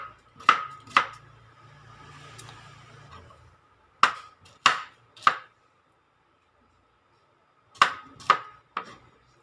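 A knife chops a mature Thai eggplant into pieces on a cutting board, giving crisp, close knocks in quick bursts of two or three, with short pauses between the bursts.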